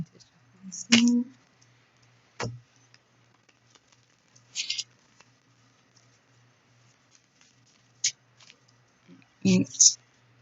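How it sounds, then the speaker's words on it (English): Tarot cards shuffled by hand in short bursts of soft riffling and patter, several separate flurries spread across a quiet room. "I need to shuffle some."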